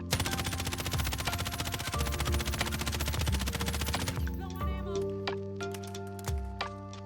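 Rapid automatic gunfire from the video game Warzone Pacific rattles continuously for about four seconds, then breaks into shorter spaced bursts and single shots.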